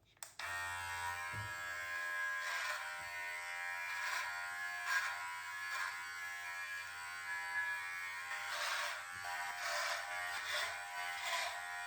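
A USB-C vacuum beard trimmer buzzes steadily and close up while cutting hair, its tone swelling briefly now and then as it passes through the hair, with a short low thump just before it starts.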